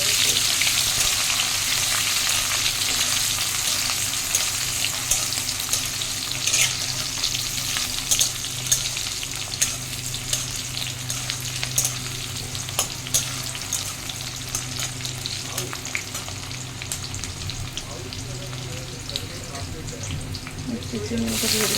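Snake gourd tipped into a hot wok with dried chilli and onion, frying with a steady sizzle and scattered crackles and stirring scrapes, close and fairly loud.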